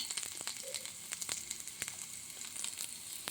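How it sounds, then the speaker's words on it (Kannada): Green chillies sizzle and fry steadily in hot oil in a pan for mutton chops, a continuous close crackling hiss with small pops throughout. "ಚೆನ್ನಾಗಿ ಹುರಿದಾದ್ಮೇಲೆ ಈಗ ಮೆಣಸಿನ್ಕಾಯಿ ಹಾಕೋತಾ ಇದ್ದೀನಿ"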